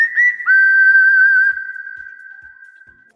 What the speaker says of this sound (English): So we get that strikeout whistle going.